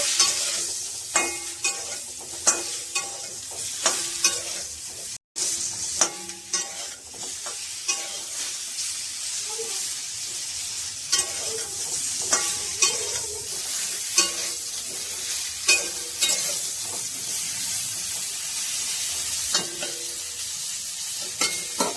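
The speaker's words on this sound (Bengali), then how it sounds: "আরো সুন্দর করে আমি 5 মিনিট কষিয়ে নেব" Food sizzles steadily in a hot pan as eggs are stir-fried with turmeric for a cauliflower curry, while a utensil scrapes and stirs in repeated clanks and scrapes.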